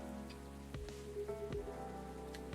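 Soft, steady rain falls outside in the video game Coffee Talk 2, a faint patter beneath a sustained, low musical tone with a few gentle plucked notes.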